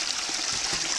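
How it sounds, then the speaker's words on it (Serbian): A mountain stream murmurs steadily over stones, a continuous close hiss of running water with no voices, lasting about a second. "Žubor vode, svjetlucavo kamenje."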